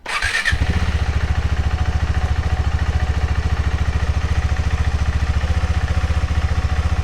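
A KTM 390 Adventure motorcycle engine fires up and settles into a steady, close, loud single-cylinder idle with an even rapid pulse throughout.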